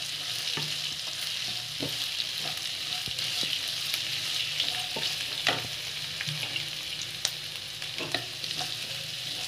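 Cut beetroot sautés in oil with chillies and curry leaves for a Tamil beetroot poriyal, a steady close sizzle with repeated light spatula scrapes and taps.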